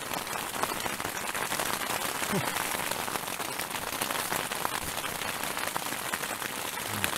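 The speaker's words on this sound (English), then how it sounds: "It's hailing." Hail pelts down steadily in the Colorado high country during early-season mule deer hunting, a dense, constant patter of hard strikes across the surface for several seconds with no voices.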